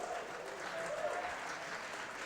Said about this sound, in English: please clap for them, clap for them. Clap for them as they come